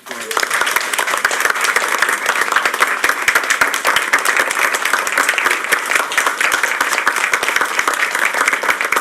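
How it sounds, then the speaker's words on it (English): Steady applause fills a school board meeting room, dense continuous clapping from the gathered attendees held at an even level throughout, loud and close. "let's give her one more round of applause"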